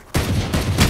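A Sheriff pistol fires in Valorant gameplay, a loud abrupt blast that sustains with a crackling tail over under a second.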